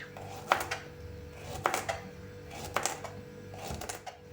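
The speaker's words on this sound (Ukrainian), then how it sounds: "Хвостики обрізаємо і нарізаємо пластинками 5 мм." A knife chops cucumbers into 5 mm slices for a garlic-and-mustard winter salad, with four crisp, evenly spaced strikes against the board and quiet pauses between them.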